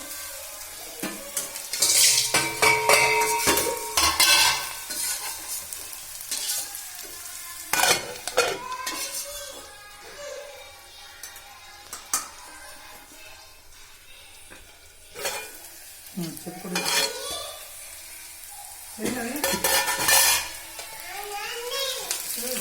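Ingredients sizzle and fry in a pan while a spoon stirs and scrapes against the metal in repeated bursts, close and fairly loud, with clatters of utensils.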